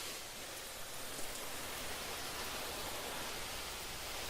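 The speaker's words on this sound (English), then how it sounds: "It has a mode called soaker that just lets the water go through all of the nozzles, and it just makes a huge mess." Water from a hose spray nozzle in soaker mode pours steadily, a soft, even hiss of many streams spattering, faint and continuous with no talk.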